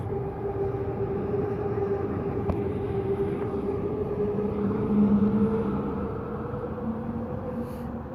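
A train rumbles along in a steady, low, continuous drone with a faint tonal hum, moderately distant and never pausing.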